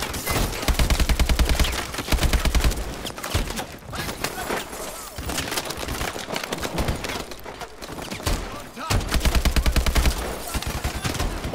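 Gunfire in Call of Duty: Advanced Warfare, a single-player campaign mission: loud, dense bursts of automatic fire and rapid shots come in repeated volleys across the clip, with no talk over them.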